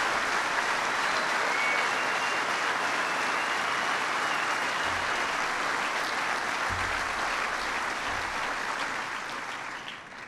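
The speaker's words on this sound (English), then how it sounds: "So give them a big round of applause" A crowd at an event on hiring veterans gives sustained, dense applause that holds steady at full strength and fades slightly at the very end.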